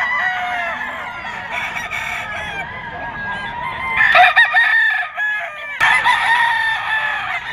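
A gamefowl stag rooster of lemon gold bloodline crows repeatedly at a busy pet market in Bocaue, Bulacan, loud and close, with other fowl clucking and crowing around it amid market bustle.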